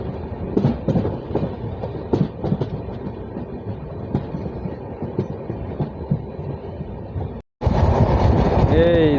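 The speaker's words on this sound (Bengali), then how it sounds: "এই দেখো আমাদের ট্রেন ছুটে চলেছে" A passenger train from Coochbehar to Kolkata runs along the rails with loud rhythmic clatter and rumbling wheel beats, then a brief gap before a brighter, louder rush of track noise.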